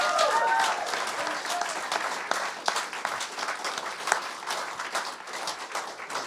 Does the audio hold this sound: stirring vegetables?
no